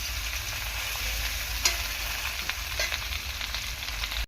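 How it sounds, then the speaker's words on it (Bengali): Fish head and spices frying and being stirred in a pan, a steady soft sizzle with occasional light scraping taps from the spoon, fairly quiet and close, with no voices. "হালকা করে এরকম নাড়াচাড়া করে দেবো"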